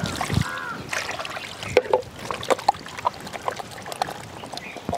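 Raw chicken being washed by hand in water for a chicken roast, soft splashing, sloshing and trickling with scattered light knocks of pieces and a bowl, close and fairly quiet.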